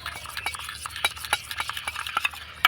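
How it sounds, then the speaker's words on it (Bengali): A spoon stirs a mixture of cornflour and white oil in a bowl, giving quick, light clinking taps in a steady irregular rhythm, close and fairly quiet. "খুব ভালো করে গুলিয়ে নেব আর একটা মিশ্রণ তৈরি করে নেব"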